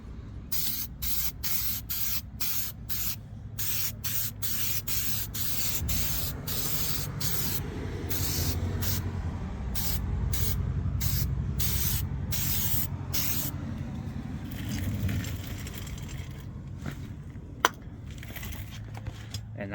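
Bursts of aerosol sealer spraying onto a restored car headlight, hissing sprays in quick repeated pulses with short gaps between, close and loud, ending with a single sharp tap.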